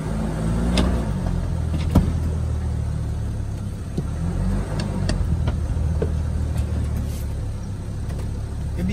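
A used Infiniti QX56 SUV idles with a low steady rumble while shifted into drive, its engine running with an odd, uneven tone, occasional clicks and knocks over the drone, heard close up.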